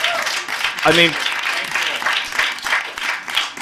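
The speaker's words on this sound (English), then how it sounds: "You can applaud." Open-mic audience applause, a broad steady wash of clapping that runs throughout, with a brief spoken remark rising over it near the start.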